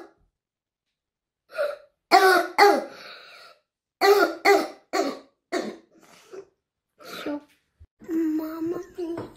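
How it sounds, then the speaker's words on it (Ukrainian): A sick patient's cough: about ten harsh, barking bursts that come singly and in quick clusters, close and loud, with a short voiced sound at the end. "Давайте почуємо зміну кашлю на протязі 4 днів."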